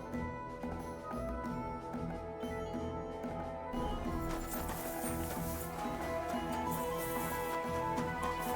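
Horse hooves clip-clop in steady rhythm in the video game Kingdom Come Deliverance 2, mixed with ambient game sounds and a low musical bed, no speech.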